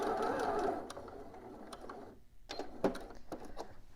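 Home sewing machine backstitching a bodice seam, a short whirring run followed by a few sharp clicks and taps of the reverse lever, close and alone.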